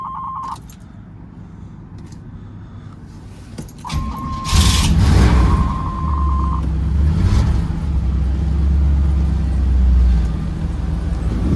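A 305 TPI 5.0 Camaro engine cranks after a chime and catches, then settles into a loud, steady idle up close.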